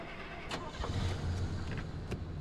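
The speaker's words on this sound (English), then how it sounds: "I gotta turn the car on" Car engine starting in the survival driving video game Pacific Drive, a brief cranking turnover with a low rumble and a few clicks, moderately loud and close, without speech.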